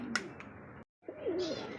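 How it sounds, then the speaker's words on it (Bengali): A male pigeon coos in soft, throaty bursts nearby, broken by a brief silence before the cooing resumes. "আর এই ডাকাডাকি হচ্ছে নর কবুতর"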